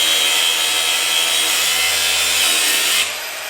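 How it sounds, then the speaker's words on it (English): A bandsaw cutting steadily with a loud, continuous buzzing whine, close by, that drops off sharply near the end as the cut finishes, with no talk over it. "A little base plate on the bandsaw only lets me get in so far."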